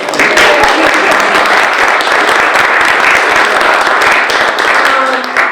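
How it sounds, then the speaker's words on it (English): Sustained applause from an audience at a public meeting on a flood resiliency project, steady dense clapping that holds at full strength throughout without a break. "I'll clap again"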